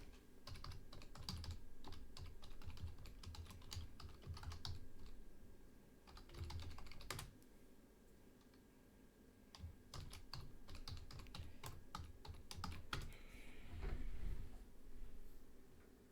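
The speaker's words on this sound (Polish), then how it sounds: "Wpisujemy login oraz hasło." A login and password are typed on a computer keyboard, heard as quick, quiet, irregular clicking bursts of keystrokes with short pauses, plus a few slightly louder key presses.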